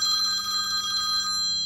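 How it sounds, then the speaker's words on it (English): A mobile phone ringtone rings loud and close, a steady electronic tone that repeats evenly on its own before cutting off near the end. "that's my phone. I'm not going to answer it."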